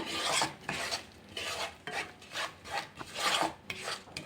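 A spoon scrapes and rubs against a pan of mango pickle with vinegar in repeated rasping strokes, steady and close, with no voices.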